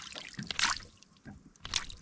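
Halves of a mud crab being rinsed in seawater over the side of a small boat, with uneven splashes and sloshing drips in two bursts and a quieter gap between them.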